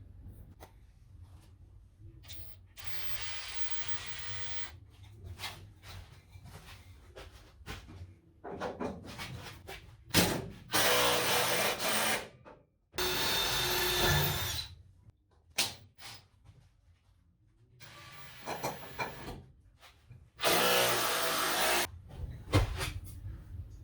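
A drill bores holes into wooden 2x2 ceiling framing inside a school bus conversion, with several loud, rough grinding bursts of a few seconds each separated by quieter handling noises.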